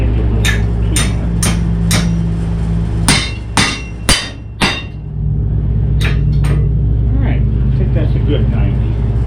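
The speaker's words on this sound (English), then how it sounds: "Now, this is 1/8 inch, so I want to get the big hammer to it." A big hammer striking 1/8-inch metal on a 1977 Pontiac Trans Am, loud close metallic blows, singly and in quick bursts of several, over a steady low rumble in a workshop.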